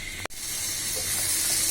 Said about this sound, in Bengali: উল্টে পাল্টিয়ে নাড়িয়ে দিব।